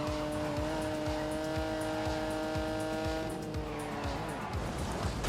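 A car engine at full throttle in The Grand Tour Game, with a steady high revving drone and rising harmonic tones. Tyre noise and rhythmic road thumps run under it, and the engine shifts pitch near the end.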